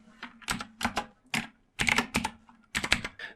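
Code typed on a computer keyboard while writing a program: quick bursts of crisp key clicks in uneven groups with short pauses, close and clear, with no talk.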